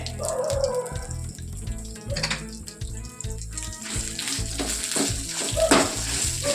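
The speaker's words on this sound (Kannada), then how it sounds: "ಕುದೀತಿದೆ." Soybean gravy bubbling in a pan, a continuous close sizzle and burble with occasional louder pops and stirring noises, under a steady background hum.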